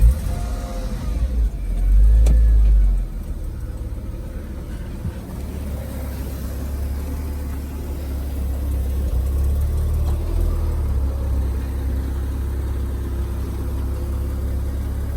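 A Porsche Boxster project car cranks and fires up with a deep low thump, then settles into a steady, throaty idle that swells as the revs climb, rumbling close by on its own.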